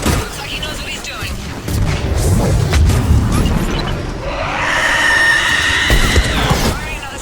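Missile salvos in the Mass Effect 3 Legendary Edition game: deep booms and rumbling launches roll under a speaking voice, followed by a rising whooshing streak and further loud explosive rumble.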